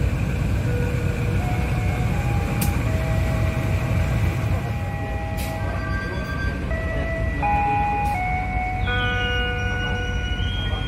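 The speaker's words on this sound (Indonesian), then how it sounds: "Pasundan masuk di jalur 2." Pasundan passenger train pulling into track 2 at Banjar station, a steady loud rumble with tonal squeals and whistle-like pitches sliding over it, a couple of brief sharp clanks along the way.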